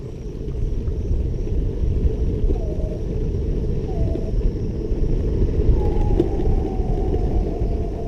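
A Meepo electric skateboard rolls downhill during a brake test, a continuous low rumble of wheels on pavement with wind noise, steady and close throughout, with faint whining tones.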